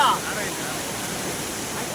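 A forest waterfall in Tamil Nadu rushes with a constant, even roar, and a faint voice is heard briefly at the very start.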